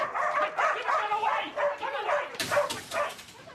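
A dog gives short yips and whimpering barks nearby, repeated in quick bursts, with a voice speaking briefly at the end.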